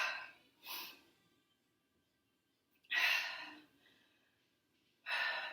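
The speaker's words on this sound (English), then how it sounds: "Breathing hard" Heavy breathing during a barre exercise workout: four loud, breathy exhalations or gasps spaced irregularly with silent gaps between, close to the microphone and alone.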